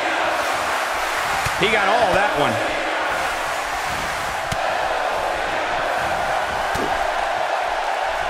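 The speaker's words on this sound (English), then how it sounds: "I don't think I've heard a Toronto crowd this loud since we were in the Dome for WrestleMania 18" A loud arena crowd in Toronto cheering during a WWE 2K18 tag match, a constant roar under commentary with occasional ring impacts and a brief whistle-like tone.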